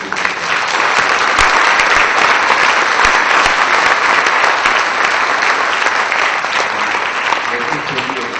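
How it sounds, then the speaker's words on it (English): A lecture hall audience at a memorial lecture applauds loudly and continuously, thick clapping with a few sharper individual claps standing out, held steady for over eight seconds. "put your hands together and give him a big applause"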